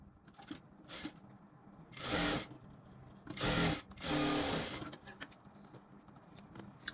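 A sewing machine stitches the hook strip of a four-dart blouse in short bursts, three louder runs of whirring stitches between quieter handling noises, close and moderately loud.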